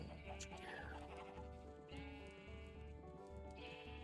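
Sheep in the video game Minecraft giving several soft, wavering bleats, spaced a second or two apart, over a faint background hum.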